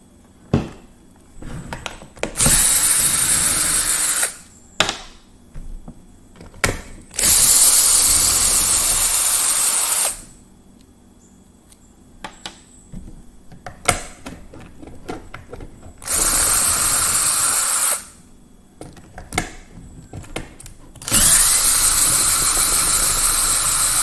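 Screws being backed out of a Poulan Pro leaf blower with a T25 Torx driver: bursts of loud whirring power-driver spin alternate with quieter pauses, handling clicks and faint ratcheting, close up, no talking.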